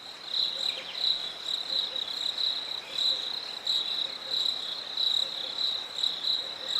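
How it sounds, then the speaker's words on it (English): Chirping crickets played as a sound effect, a steady rhythmic high-pitched trill that pulses continuously with no talking over it. "Where's my crickets?"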